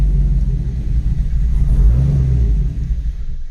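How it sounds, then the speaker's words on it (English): A Chevrolet Colorado with a V8 swap and transmission trouble bogs under throttle, a loud, heavy low rumble that surges and sags without clean revving, heard up close. "I hit the gas, and that time it bogged out"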